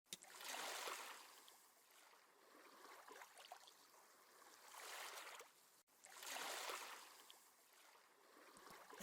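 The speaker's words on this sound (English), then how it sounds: "sound of waves gently rocks me awake" Gentle ocean waves from the video game even if TEMPEST: two soft, hissing surges swell and recede in a slow rhythm, with a quieter wash between them, fairly faint and with no voices.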